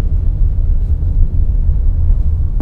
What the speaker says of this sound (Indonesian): ini suara bannya masih masuk sih, terutama yang bagian belakang ya.